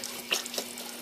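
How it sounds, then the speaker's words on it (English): Tap water runs steadily over a burned hand, a close, even splashing stream with a couple of small louder splashes. "you need to keep your hand under the water for from 10 to 15 minutes"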